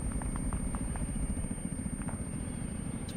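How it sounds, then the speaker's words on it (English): A reinforcement helicopter in the video game ArmA 3 gives a steady, low, throbbing rotor rumble that holds at an even level throughout, with no talking. "that must be a reinforcement chopper"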